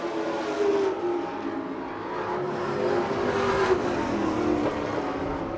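Late model stock cars roar around an oval track during a Group 2 opening-day heat race, a steady, loud blend of engine drone with revving swells as the pack circles, no voices over it.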